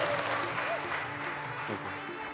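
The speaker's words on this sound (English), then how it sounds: "So round of applause." Guests at a wedding ceremony applaud with steady, moderate clapping, while a few voices and a faint tone run beneath it.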